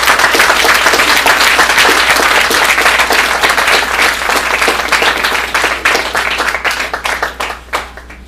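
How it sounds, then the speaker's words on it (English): Dense, loud applause from an indoor audience at a speakers' event on the tar sands, a steady wash of many hands clapping that thins toward the end. "je vais juste vous inviter à applaudir Audrey."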